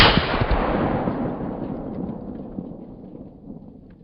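A single loud gunshot from an alien's sniper rifle cracks at the start and then rolls away in a long, booming rumble that fades over several seconds, with no voices.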